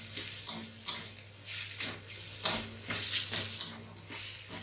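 Shrimp frying in a pan, with a steady sizzle broken by repeated metallic scrapes and clinks of a stirring utensil, close and moderately loud.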